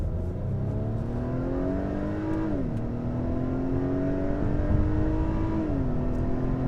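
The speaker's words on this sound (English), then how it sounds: "Let's give the engine the full beans here." A 2021 Acura TLX with a 2-liter turbo engine accelerates hard, its rising engine note climbing steadily, dipping briefly at two gear shifts, heard from inside the car with no talking.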